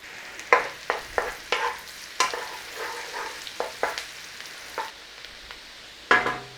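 Bacon and onion frying in a pan, a series of brief scraping stirs over a soft steady sizzle, close and moderately loud, with no voices.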